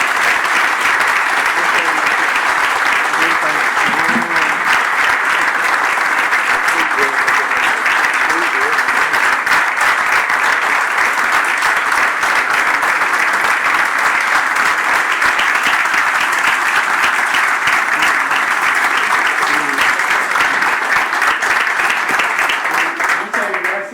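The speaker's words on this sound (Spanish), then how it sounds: "debemos agradecer al profesor Hacks su presencia con un aplauso gigante" A lecture hall audience at a university industrial engineering course applauds a visiting professor, with dense, loud, sustained clapping that keeps an even level throughout.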